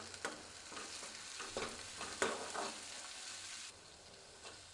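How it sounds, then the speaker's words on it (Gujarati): Chopped onion with salt sautéing in a pan, a steady soft sizzle broken by several scraping stirs of a spoon, close and moderately quiet, with no voices. "ડુંગળી ઝડપથી સંતળાઈ જાય એ માટે આપણે અત્યારે સ્વાદ પ્રમાણે મીઠું ઉમેરી દઈશું અને બધું એક વખત સારી રીતે મિક્સ કરી લેશું"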